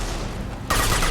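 A concussive shot fired in the sci-fi game Mass Effect 2 lands as one sudden loud burst after a brief quiet stretch of low ambient hum.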